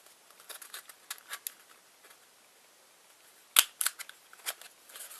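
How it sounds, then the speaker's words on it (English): Hole punch cutting through paper corners for a simple handmade Valentine's gift, with light scattered paper handling ticks and rustles and one sharp, close punch snap, then a few smaller clicks. "take your hole punch and punch a hole in each of those corners"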